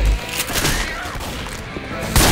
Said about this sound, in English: I shot a zombie's head off!